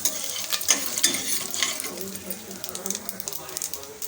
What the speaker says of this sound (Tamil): பெருங்காயம் ஆட் பண்ணிக்கலாம் கொஞ்சமாக கருவேப்பிலை சேர்த்து கலந்து விட்டுக்கலாம்